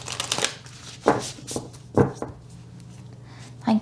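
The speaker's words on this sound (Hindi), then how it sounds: "ये थोड़े से बड़े कार्ड हैं तो मैं अलग तरीके से शफल कर रही हूँ इन्हें।" Large tarot cards shuffled by hand in uneven bursts of papery riffling and slapping, with several sharp louder flicks spaced through the clip, close and clear with no talking.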